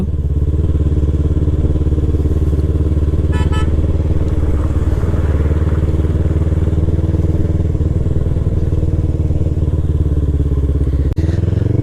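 A Yamaha R3 sports motorcycle engine drones loudly and steadily while riding, a constant low roar with a brief clatter near the end.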